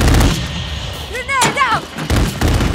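Gunfire in Call of Duty Modern Warfare comes as loud close bursts at the start, middle and end, with voices calling out between the shots.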